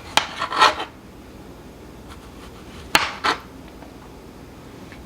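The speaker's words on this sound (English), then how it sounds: "cut the top off, and be sure to curl your fingers back because the tomatoes can be slippery" A knife cuts and quarters tomatoes for canning, giving a few brief close knocks and scrapes against a cutting board, separated by quiet pauses.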